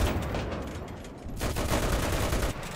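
Dense, rapid machine gun fire in the video game Enlisted rattles continuously with booming low-end, briefly easing before surging back in a sustained burst.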